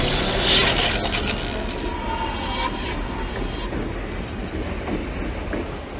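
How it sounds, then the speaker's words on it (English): A subway train runs with a steady rumbling roar and rhythmic rail clatter, heard from inside the car, loud and continuous with faint squeals. "Excuse me, does this train go to Melrose?"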